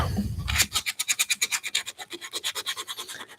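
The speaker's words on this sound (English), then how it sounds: "give that a good old sand around" Hand sanding of a wooden scroll saw castle piece: a quick, steady run of about twenty rhythmic rasping strokes, close and fairly loud, with no voices.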